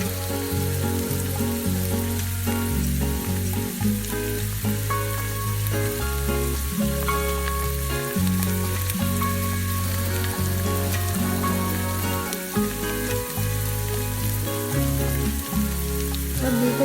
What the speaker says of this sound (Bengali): এবার মশলাটা কষানো হয়ে গেছে এর মধ্যে দিয়ে দিচ্ছি বাদামের পেস্টটা